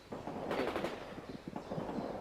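Gunfire in World in Conflict, a wartime strategy game: bursts of rapid shots at moderate distance, a dense volley early on, then scattered cracks, fairly quiet overall.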